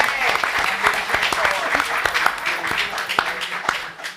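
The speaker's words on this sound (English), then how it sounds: "Give her a round of applause for that." An audience at a live event applauds, with dense, sustained clapping continuing throughout before tapering slightly, and a voice faintly audible beneath the applause.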